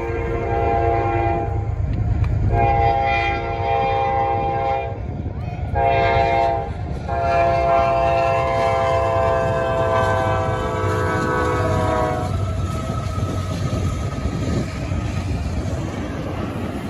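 Freight train 22K passing close by, its horn sounding in several loud sustained blasts over the heavy continuous rumble of railcars rolling past.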